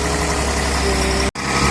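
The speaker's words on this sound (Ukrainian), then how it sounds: "І також має незалежний двигун для подачі бетона." A concrete pump truck's independent engine idles, a loud steady low rumble with constant vibration, broken by a brief cut before the idle resumes.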